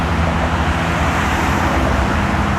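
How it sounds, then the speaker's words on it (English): Steady, dense city street traffic with cars passing close by near the Brooklyn Bridge in New York City on an early December morning, a continuous loud roadway rumble with no talk. "A lot of cars and everything like that going on here."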